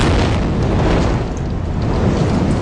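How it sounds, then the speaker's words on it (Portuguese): During bombing in the Hamas–Israel conflict, an explosion brings down a building, producing a sustained, heavy, roaring rumble that fills the whole stretch without any voices. "mais uma explosão, levando abaixo um prédio"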